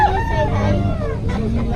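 Rooster crowing at a busy gamefowl market in Bocaue, a near, loud call rising over a background murmur of people talking.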